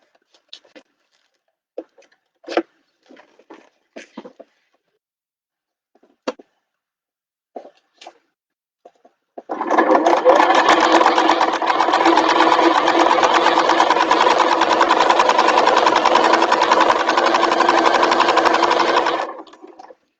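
After scattered soft clicks and handling noises, a sewing machine stitches a bag panel in one long, steady run of fast, close mechanical whirring for about ten seconds before stopping.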